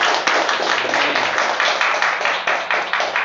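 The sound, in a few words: congregation applauding in church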